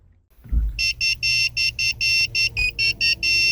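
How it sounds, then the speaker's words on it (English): A key fob programming tool for a 2009 Lincoln MKS emits a series of about ten sharp electronic beeps in an irregular rhythm, loud and close, after a brief low thump. "you'll hear a beeping tone, which means that the key chip programming was successful"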